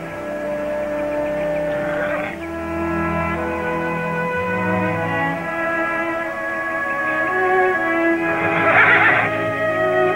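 Horse neighs loudly in a Western drama scene, long shrill whinnies near the start and again near the end over sustained musical score, close and prominent, with no speech.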